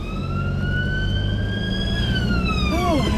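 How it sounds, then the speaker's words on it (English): Police siren wailing close by on a city street, one long rising-and-falling tone that sweeps upward and back down, loud over a constant rumble of traffic, with a second siren pattern joining near the end. "Sirens have started already."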